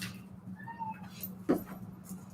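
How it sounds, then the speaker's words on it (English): A domestic cat meows and yowls in agitation, several short cries at a moderate distance over a quiet indoor background. "Sorry if you heard my cat freaking out in the background."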